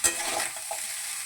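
Sugar, green chillies and black pepper fry in a pan at home, giving a short, steady broadband sizzle with a light stirring scrape near the start, close and fairly quiet.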